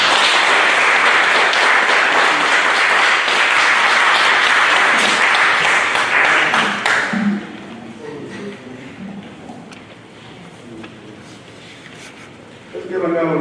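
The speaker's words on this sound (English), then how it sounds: "Give a round of applause." Audience applause for an award recipient at a Veterans Day celebration in East Orange, a loud, dense burst of clapping that stops abruptly partway through, leaving quieter room sound with a voice afterward.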